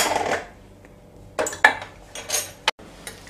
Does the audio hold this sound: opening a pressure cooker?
yes